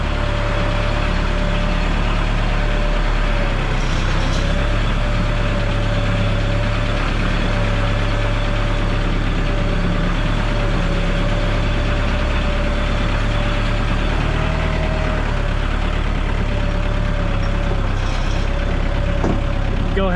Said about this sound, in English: get that nice sounding diesel engine